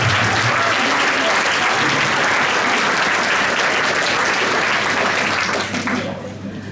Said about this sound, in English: A round of applause for Henry and his daughter.